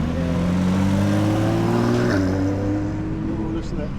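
A Porsche GT3 engine with PDK gearbox revs nearby, its steady drone rising in pitch, then dropping briefly before climbing again.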